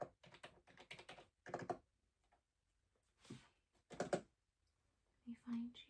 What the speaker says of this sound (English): let me just type in your card number